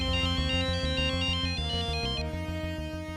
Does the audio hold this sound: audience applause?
no